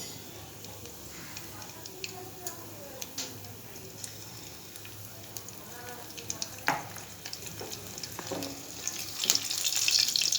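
Black cumin seeds and whole green chillies crackle and sizzle in hot oil, a close frying hiss with scattered pops and stirring clinks that grows louder near the end, with a voice speaking.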